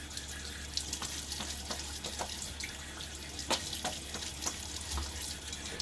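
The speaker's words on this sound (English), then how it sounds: "a little water." Water runs from a tap during a wet shave with a Gillette Aristocrat razor, a steady splashing stream close by, broken by irregular clicks and taps as things are rinsed under it, with no speech.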